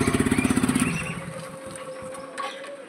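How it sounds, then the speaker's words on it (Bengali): A motorbike engine pulls away with a rapid pulsing putter at first, then settles into a smoother, quieter running hum with faint traffic and mechanical rattles around it. "তো বাইকের পেছনে চেপে চললাম"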